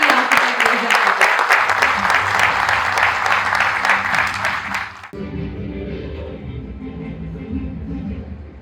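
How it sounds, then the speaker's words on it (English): An indoor audience at an interior designers' event gives an architect loud, sustained applause for about five seconds, then it cuts to quieter room sound with a murmur of voices. "give a huge round of applause for our prolific and visionary architect, Reza Khatun"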